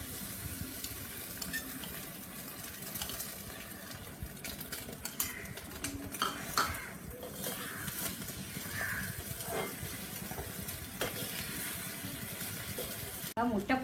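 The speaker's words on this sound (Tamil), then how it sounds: "இப்போ இந்த கலக்கின முட்டையை இதில் ஊற்றுவேன்" Beaten egg hits sautéed onions in a hot pan, giving a steady frying sizzle with stirring and scraping, joined by faint bird coos in the background.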